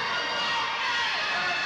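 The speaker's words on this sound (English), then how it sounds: "you've got 376 fans in here chanting for Tony Atlas and Ox Baker" A wrestling event crowd of fans chants and roars in a steady, dense wash of massed voices that fills the whole moment.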